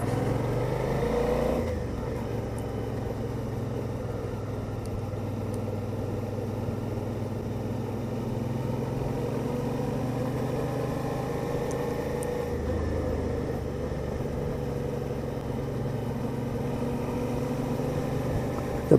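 Suzuki V-Strom 650 motorcycle engine running steadily on Honister Pass, a continuous loud drone with sustained throttle over a bumpy road, close and constant throughout with no talk.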